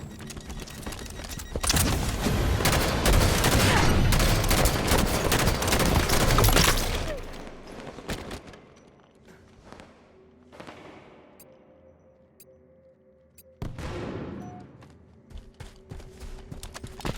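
Gunfire in the video game Halo 5 on a snowy Forge map: a long, loud stretch of sustained automatic fire, then quieter scattered shots and a later short burst.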